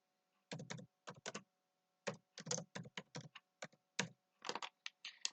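Typing on a computer keyboard while entering slide text in a presentation program: quick bursts of close, crisp key clicks in short irregular runs separated by brief pauses, with no voice.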